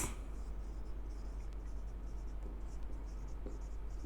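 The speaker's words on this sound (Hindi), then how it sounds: "पॉइंट को लिख देता हूं मैं" Pen or marker writing notes during a physics lesson on capacitance, a faint steady scratching of strokes under a quiet room hum, with no talk over it.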